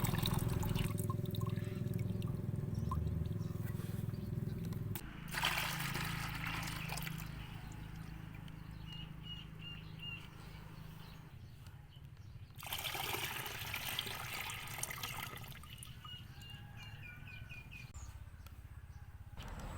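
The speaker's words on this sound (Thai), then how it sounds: "พอปอกเสร็จก็เฉาะเอาน้ ำ เทลงไปในกระปุกที่เตรียมไว้เลยครับ" Fresh coconut water is poured from three opened coconuts into a prepared jar, producing a quiet, close trickling and splashing that comes in several uneven bursts, with faint birdsong in the background.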